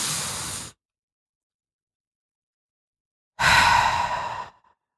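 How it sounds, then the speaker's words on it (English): A deep breath drawn in, a few seconds of silence while it is held, then a longer, louder breathy exhale that tapers off, close and alone with no other sound. "Inhale as much air in your lungs as you can, and then let it go. Exhale slowly."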